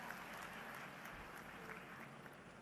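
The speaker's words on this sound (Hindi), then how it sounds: "तालियों की जोरदार गड़गड़ाहट" A women's self-help group gathering in Madhya Pradesh breaks into steady applause, many hands clapping together in a continuous, even wash heard from a distance.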